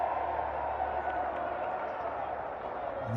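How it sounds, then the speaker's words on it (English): Steady crowd roar fills a futsal arena during the Dominican Republic vs Cuba Concacaf Futsal Championship match, a sustained, even cheering and murmur with no sharp peaks, likely with voices mixed in. "And the crowd loving the defensive effort by Marco Gomez."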